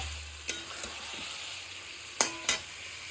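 Rice mixture for muri ghonto sautéed and stirred in a pan, with a steady sizzle and a few sharp spoon scrapes and taps against the metal, close and alone.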